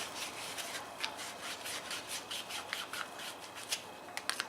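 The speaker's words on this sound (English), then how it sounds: "Now I like to take this 2000 grit sandpaper again, just to polish my edges again." Fine 2000 grit sandpaper rubbed by hand over the cut edges of a replacement brake line, a steady close-up rasping scrape with repeated short strokes and occasional sharper swipes.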